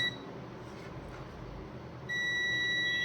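A multimeter in continuity mode beeps while probing a capacitor on a laptop repair bench. A short steady electronic tone sounds at the start, then after a quiet stretch a continuous loud beep holds to the end, with no talking.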